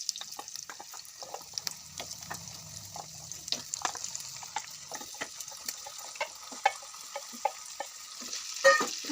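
Ginger-garlic paste fries in a pan for a fish and tomato curry, giving a faint, quiet sizzle broken by scattered scraping and clinking stir strokes throughout.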